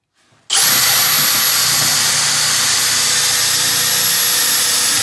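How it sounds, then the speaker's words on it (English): A power drill starts abruptly and runs continuously at high speed, loud and steady with a bright whine, drilling a hole through a KTM EBR 1190 motorcycle airbox without pause. "and we drill a hole."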